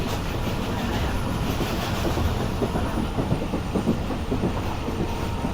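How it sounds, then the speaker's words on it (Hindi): Sukkur Express passenger train, hauled by locomotive SGM 38-203, picks up speed on the rails, with continuous loud rumble and rhythmic clickety-clack of wheels over track joints, heard close from on board with no talk. "और अब ट्रेन आहिस्ता आहिस्ता एक्सीलरेट कर रही है अच्छी स्पीड में आने के लिए"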